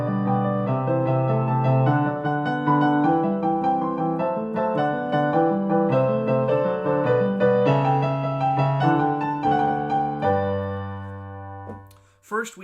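Several interweaving melodic lines of a Bach Gigue fugue move through a sequence, played at a lively, steady pace and fairly loud, ending on a held low note followed by a short burst of noise.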